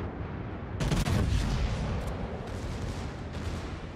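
Heavy naval guns of the Italian battleship Vittorio Veneto fire a full broadside in a naval combat game, a loud booming burst of overlapping shots that rolls into a rumbling tail over steady battle ambience.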